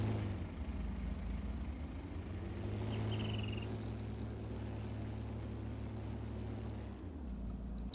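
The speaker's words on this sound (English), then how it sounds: "I would say that engine sound needs a little bit of work, a little bit of revision." Steady, droning engine hum of a sprayer vehicle in Farming Simulator 19, a low continuous rumble with a faint tonal whine that holds even throughout and eases slightly at the end, with no talk over it.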